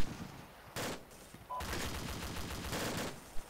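Heavy gunfire in the ArmA II military video game, loud sustained automatic bursts and rattling volleys that start and stop, with a sharp single report near the end.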